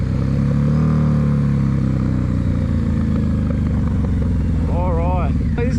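A 2015 Harley-Davidson Night Rod Special pulls hard from a standstill toward 100, its loud engine rumbling low and rising through the gears with a brief shift near the end, heard close from the rider's position.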